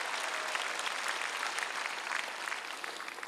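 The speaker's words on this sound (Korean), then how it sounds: "박수로 하나님께 영광 돌리고" A large crowd claps loudly and continuously at an outdoor prayer rally for peaceful reunification at the War Memorial plaza in Yongsan, Seoul, the applause dense and fading slightly at the end.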